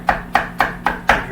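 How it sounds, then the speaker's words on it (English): Kitchen knife chopping food on a cutting board: five crisp, evenly spaced chops, close and clear, with no voices. "keep chopping away at these guys"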